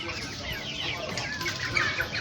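Chickens clucking in a busy coop while birds are held for fowlpox wing-stab vaccination, a continuous dense flock chatter with brief louder squawks near the end.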